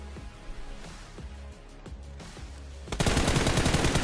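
Gunfire in BGMI (PUBG Mobile): faint, spaced distant shots at first, then a sudden loud, rapid close-range automatic burst that continues to the end.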